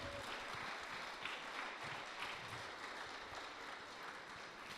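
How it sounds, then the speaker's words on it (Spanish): A church congregation applauds steadily and faintly, a continuous wash of distant clapping with no pauses. "Dale un aplauso al Señor."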